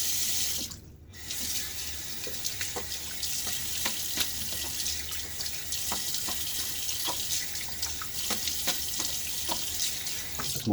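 A bathroom tap runs steadily into a sink while a razor is rinsed under it. Close, even splashing is broken by a brief pause near the start and by small clicks of the razor against the basin.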